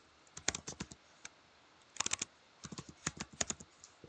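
A password typed on a computer keyboard, heard as close, quiet clusters of rapid key clicks in several short bursts separated by brief pauses.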